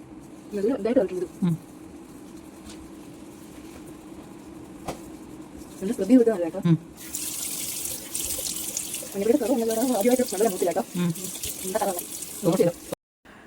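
A tap runs into a sink while a turmeric face pack is washed off, with intermittent splashing and gurgling up close, then a steady, strong stream of running water near the end. Soft voice-like sounds come and go in between.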